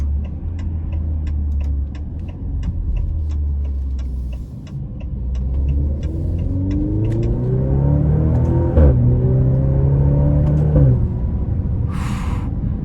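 A 2023 Maserati Grecale Modena engine revs up in manual mode, climbing in pitch, dropping briefly at each gear change before rising again, loud and close, with a ticking indicator early on.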